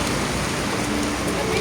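Rain falls steadily outside a small store, a dense, even hiss of drops on surfaces that stays constant and fairly loud with no pauses.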